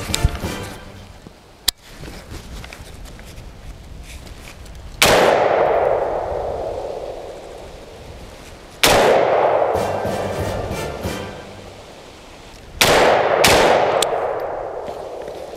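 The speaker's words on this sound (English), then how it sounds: "I'm gonna go ahead and take a couple shots" An AR15 or pistol fires about five sharp shots at steel targets, each crack followed by a ringing metallic clang that decays slowly; the last two shots come close together.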